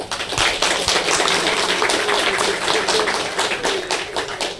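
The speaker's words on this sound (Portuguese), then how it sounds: "a quem eu peço uma salva de palmas" A hall audience at a Brazilian football club anniversary ceremony in Sergipe applauds two former club presidents, with steady, dense clapping throughout at moderate level and no talk.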